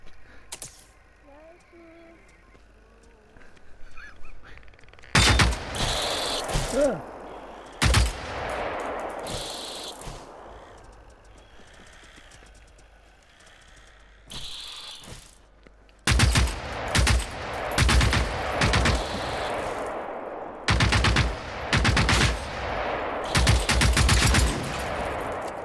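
Wild, scattered gunfire in Generation Zero, loud bursts of shots separated by quieter stretches of game ambience and clicking, with voices talking now and then.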